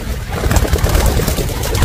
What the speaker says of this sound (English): I'm just showing the birds off right now.